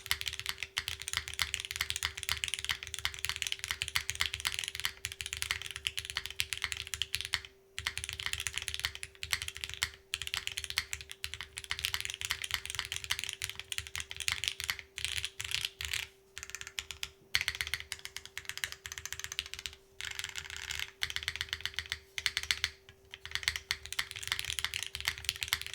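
Continuous typing on a custom Salvation mechanical keyboard fitted with scratchy Cherry switches, dense rapid keystrokes clacking steadily and close up with only brief pauses, and no talking.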